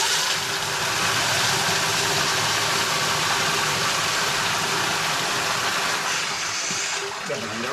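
Micro hydro Pelton turbine running at 60 psi, a steady broad rushing whir of water spray and spinning runner, loud and close throughout, easing slightly near the end.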